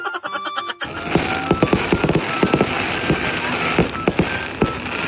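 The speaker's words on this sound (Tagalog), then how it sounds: "Ang ganda kasi ng mga fireworks dito." Fireworks burst at a New Year celebration during a wedding, a rapid series of sharp crackling pops and bangs following a brief quieter musical moment, fairly close and dense for several seconds.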